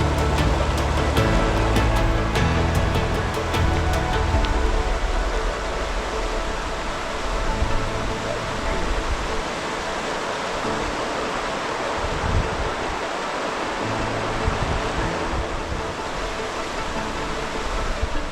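A rushing mountain creek beneath a footbridge in Kootenay National Park roars as a steady broadband wash of water, loud and continuous throughout.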